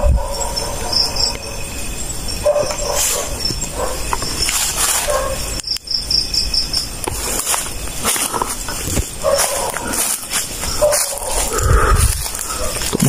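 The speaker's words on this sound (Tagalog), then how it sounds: "Tumahol na yung aso mo." A dog barks a few times amid steady outdoor background noise, with scattered clatter and movement sounds throughout.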